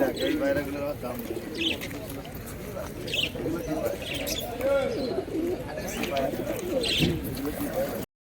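Jack pigeons coo in low, throaty murmurs throughout at a market in Birnagar, with someone talking over them nearby.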